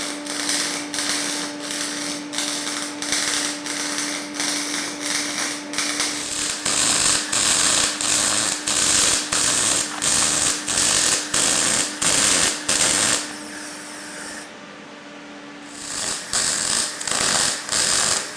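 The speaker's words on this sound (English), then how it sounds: "So I'm going to weld these all round, keep checking and make sure they don't move on me." A wire-feed welder lays beads on a steel welding fixture table, giving a constant crackling buzz that pulses in short rhythmic bursts, stops briefly and then starts again, loud and close.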